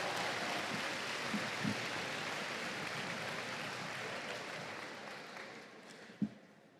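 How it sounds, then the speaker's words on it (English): An audience applauds at an annual Hawaiian music concert honoring Maui paniolo, the steady clapping filling the hall and slowly fading, with a brief knock near the end. "one more time, a round of applause for our Paniolo, past, present, and future"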